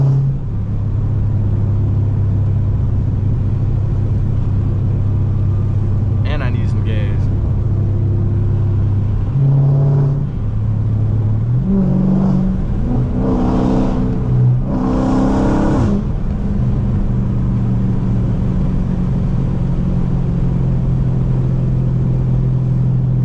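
A car with JBA catless midpipes and an MBRP race exhaust drives on a bumpy road, its deep rumbling exhaust droning loudly, rising and falling through revs and shifts, heard from inside with no talk.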